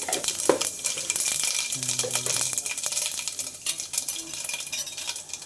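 Panch phutan spices fry in hot oil for a tempering, a soft steady sizzle with close stirring scrapes and light metal clinks of a utensil against the pan.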